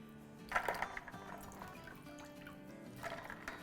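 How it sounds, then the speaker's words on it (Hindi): Potato slices for crisp chips tipped into a bowl of chilled ice water, giving a burst of wet splashing and clinking near the start, a quieter trickle and a second splashy pour toward the end, all close and fairly soft. "अब हम इसे बिल्कुल बर्फ़ वाले पानी में और ठंडे ठंडे पानी में जो हमने चिल किया हुआ है उसमें डालेंगे अपने आलूओं को।"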